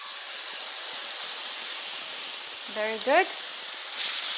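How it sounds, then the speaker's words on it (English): Fish fillets with garlic sizzle in a skillet, a steady hiss from start to finish, while a voice speaks briefly near the end. "Sizzling sound, smell of garlic"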